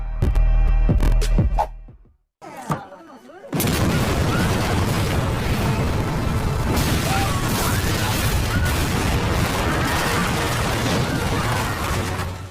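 A large explosion rips through a city in an action film from the High and Low series, a deep booming blast followed by a sustained roaring rumble of fire and debris that fills the scene loudly after a brief near-silent pause.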